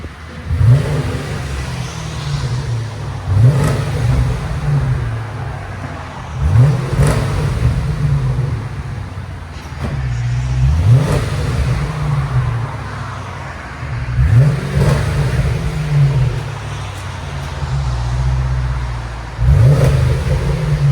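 A deep V8 exhaust rumbles at idle and revs repeatedly, roughly every few seconds, with throaty low bursts rising and falling, close and loud.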